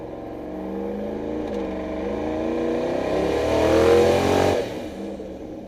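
A truck engine hums at low throttle while cruising around town, its drone rising and shifting pitch gradually, swelling louder before easing off near the end.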